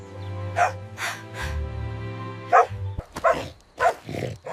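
A dog in an animated fairy tale barks several times in short yaps over a sustained musical drone, the barks loud and close, bunched in two groups with a brief pause between.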